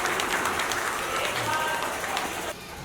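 An audience at a Hindi poetry recital applauds, a dense, steady wash of many hands clapping at once for a few seconds, fairly loud throughout and easing slightly at the end.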